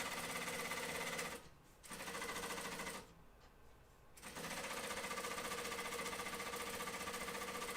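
A sewing machine runs steadily while stitching a flight suit, a fast even whir that pauses briefly twice before continuing at full pace, close and fairly loud.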